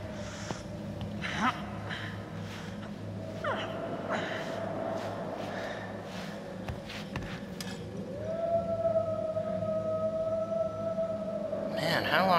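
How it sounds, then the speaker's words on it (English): Wolves howling in the horror video game Until Dawn, a long sustained wavering howl that rises and holds over a dark ambient game soundtrack, fairly loud and continuous with brief rustles. "how long are these wolves gonna howl?"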